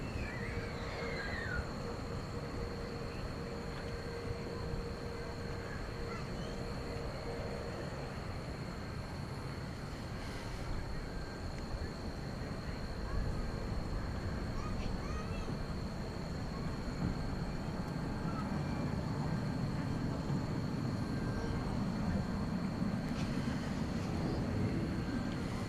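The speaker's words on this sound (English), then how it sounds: "I think we'll leave you tonight with the takeoff of Fiji, Flight 891 going to" Fiji Airways Flight 891 takes off at night, a steady, fairly loud jet roar that holds for the whole stretch and swells slightly toward the end, with no talking.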